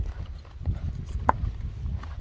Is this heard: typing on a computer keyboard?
no